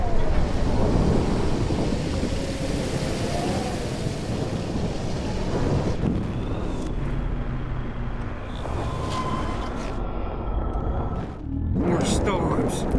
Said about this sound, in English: More storms.